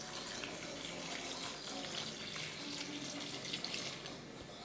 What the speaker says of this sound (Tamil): இப்போ வந்து தண்ணி தேவையான அளவுக்கு தண்ணி ஊற்றிக்கலாம்